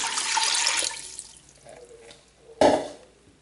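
Water splashes and pours into a pan to start a fig syrup, a bright rushing burst at first that fades into quieter trickles, then a sharp second splash near the end, close and fairly loud.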